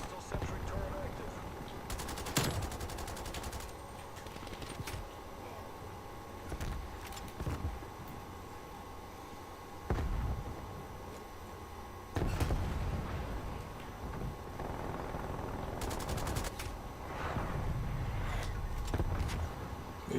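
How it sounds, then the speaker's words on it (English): Automatic gunfire from a sentry turret in a video game, coming in several short bursts among other game noises and clanks, moderately loud and fairly close. "Hostile sentry turret active."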